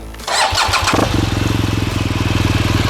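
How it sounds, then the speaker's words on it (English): A BMW R 1200 GS Adventure motorcycle cranks briefly with the clutch held in, catches, and settles into a loud, close, steady rhythmic idle. "then we can proceed in starting the motorcycle with the clutch completely depressed as well"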